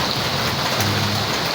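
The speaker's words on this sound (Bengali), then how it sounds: "আপনারা দেখতেই পাচ্ছেন" Steady rain falls in Trishal, Mymensingh, a dense, even hiss with no break, close and moderately loud, with no voices over it.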